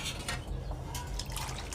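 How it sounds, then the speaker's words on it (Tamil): Mutton cooking broth is poured into a pan, a brief close splashing and trickling of liquid with a low bubbling undertone. "இப்போ அந்த கறி தண்ணியும் இதோட ஊற்றிக்கலாம்"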